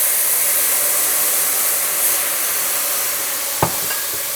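Shrimp risotto with wine cooking over raised heat, a constant loud bubbling sizzle and hiss up close, broken near the end by a brief spoon knock against the pot.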